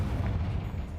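A Confringo blasting spell goes off in the Hogwarts Legacy video game, a dense, rumbling low boom that fills the whole second at steady loudness with no speech over it.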